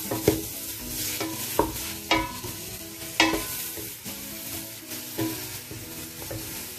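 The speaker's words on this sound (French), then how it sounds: "Je fais bien revenir ma viande, mes oignons, tous ensemble." Lamb and onions browning with spices in a pot for barley couscous, with steady sizzling broken by several sharp scraping stirs of a utensil against the pot, close and fairly quiet.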